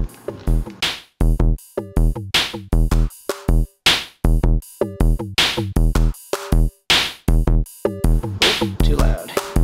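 Music with heavy, regular bass beats and bright percussive hits blasts from a Vibe Bluetooth speaker turned up loud, the pulses steady and punchy across the whole stretch with no voices.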